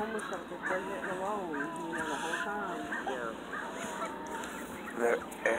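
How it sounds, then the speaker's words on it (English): Canada geese honking in a scattered, overlapping chorus, fairly loud and close, with people talking over the calls throughout. "Look at all these Canada geese."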